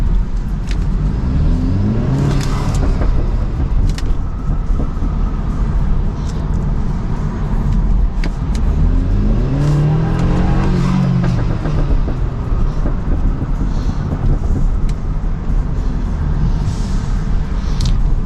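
BMW F30 328i engine revving hard under repeated acceleration from inside the car, loud droning engine tone sweeping up and down in several rising pulls over constant road rumble.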